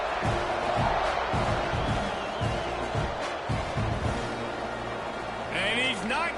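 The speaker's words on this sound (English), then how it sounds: "this crowd is buzzing after that last score" Stadium crowd at a college football game between Colorado and Texas A&M, a loud continuous roar filling the space with bursts of cheering and thumping, close and steady, with whistles and shrill cries near the end.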